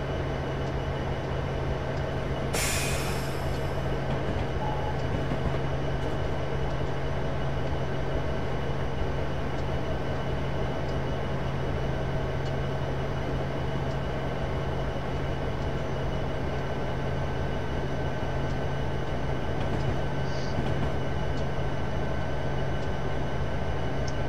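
A train runs steadily through Horseshoe Curve in Train Simulator 2015, giving a continuous loud engine drone and rolling rumble. A brief hiss of air sounds early on, and a faint clink comes later.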